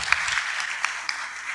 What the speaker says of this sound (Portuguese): Salva de palmas pra eles.